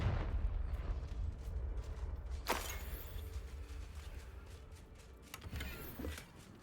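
Confringo fire spell explosion in a wizard video game: a deep rumbling burst that opens loud, followed by two sharper cracking impacts a few seconds apart, trailing off into a low fading rumble, with no speech over it.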